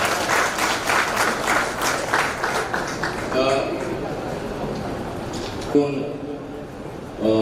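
Audience applause at a farewell ceremony for a poet: dense clapping from a crowd that fades after a few seconds into a quieter hall with a few scattered claps, and a voice speaks over the tail.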